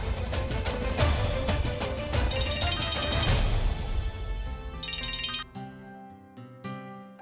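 Mobile phone ringtone for an incoming call in a Hindi TV drama scene, a tonal melodic pattern sounding loud and steady through most of the stretch, blended with dramatic background music.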